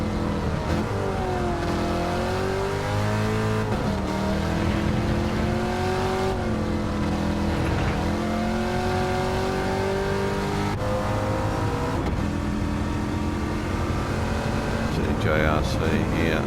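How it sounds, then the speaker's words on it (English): Race car engines rev and drone in Gran Turismo 7 at the Lago Maggiore circuit, with differently tuned cars giving shifting motor tones. The engine sound rises and falls continuously, loud and layered under steady commentary. "Got different tones in the motor depending on how the cars are being set up."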